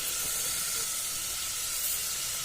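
Garlic and asafoetida sizzle in hot oil for a Bihari-style dal fry tadka, a steady bright hiss that stays close and constant throughout with no talk.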